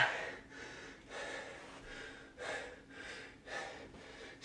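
Heavy, rhythmic breathing after an intense conditioning workout: about eight hard, gasping breaths in a steady cycle, close and fairly quiet, with no talk.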